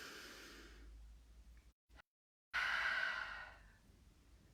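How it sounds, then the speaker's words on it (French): Deep, audible breaths during a Pilates breathing exercise: a long airy exhalation, a brief pause, then a strong drawn-in breath that fades slowly, heard close with no talking. "Et inspire."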